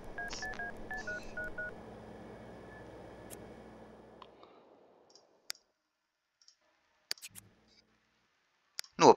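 Telephone dialing in The Sims 2 video game: a quick series of beeping keypad tones over soft background music that fades out, followed by sparse isolated clicks and a louder final click.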